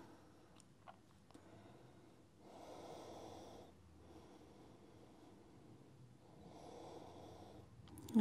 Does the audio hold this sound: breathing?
yes